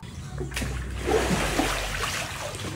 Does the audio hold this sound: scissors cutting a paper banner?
no